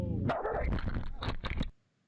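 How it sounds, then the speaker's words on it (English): A recording of a dog attacking plays back, with harsh growling barks and snarls in a loud, dense close burst that cuts off abruptly into silence. "Then you hear the dog attack."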